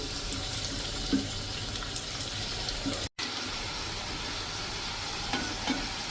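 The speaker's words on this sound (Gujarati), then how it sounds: "જુઓ મિત્રો આ રીતે આપણે બધી પૂરીને તરી લેશું." Wheat flour pani puri puris deep fry in hot oil, giving a continuous, close bubbling sizzle with small pops and one brief break midway.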